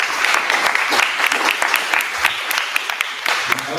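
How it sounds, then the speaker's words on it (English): Steady applause from a conference audience thanking the organizing lab and university teams, dense overlapping claps filling the room for a few seconds without pause. "So a quick round of applause for all them."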